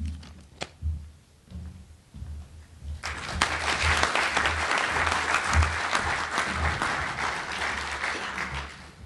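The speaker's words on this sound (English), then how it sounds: "I was wondering if the applause were going to come there for a minute." Applause from a hockey press conference audience for the Houston Aeros play-by-play announcer, with a few scattered claps at first before a full, steady round of clapping swells in and holds.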